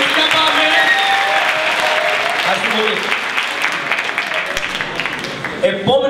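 Audience applause fills a singing contest at a carnival event in Agios Nikolaos, a steady loud wash of clapping and crowd noise sustained throughout, with a few brief voices near the end.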